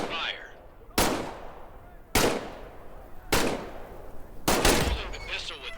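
Four evenly spaced pistol shots from the VR game Medal of Honor: Above and Beyond, each a loud, sharp crack with a short echoing tail.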